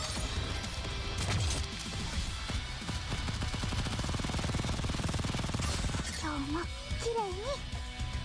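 Sustained automatic fire from the character Soda in the game Nikke, a dense rattling stream of shots running continuously, with game effects and someone talking over it.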